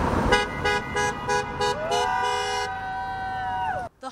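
Car horns honk at a roadside honk and wave event in downtown Colorado Springs, with about eight short, evenly spaced toots followed by one long sustained blast that bends down in pitch and cuts off.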